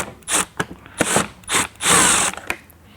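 Power driver removing screws from a SunJoe pressure washer, short whirring bursts with ratcheting clicks, four quick runs in close succession, close and moderately loud.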